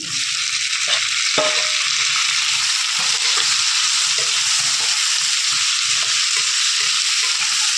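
Tomato pieces sizzle steadily in a pan of oil with ginger paste, a dense, even frying hiss that stays close and loud throughout, with faint soft clinks and no voices.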